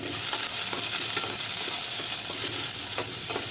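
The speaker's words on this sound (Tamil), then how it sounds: "எண்ணெய் காய்ச்சதும் நம்ம நறுக்கி வச்ச வெங்காயத்தை, கருவேப்பிலையும் வெங்காயத்தையும் போட்டுருவோம்." Steady, bright sizzling of onions and curry leaves frying in hot oil, with occasional soft stirring clicks, close and continuous.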